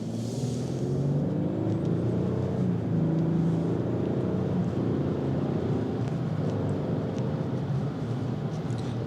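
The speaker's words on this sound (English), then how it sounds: "So there's like a normal acceleration there" A 2024 Lexus GX 550 Premium+ 4WD accelerates normally, heard from inside as a steady, moderate engine hum with road noise that builds gently and stays continuous.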